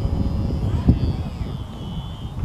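A HobbyZone Sport Cub S radio-controlled model airplane flies overhead with a steady, thin electric motor whine. Someone talks close by over a rumbling outdoor breeze.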